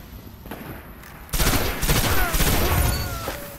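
Heavy gunfire from the video game Destiny erupts during a team deathmatch, a dense, loud burst of rapid shots after a quieter opening with a few scattered reports.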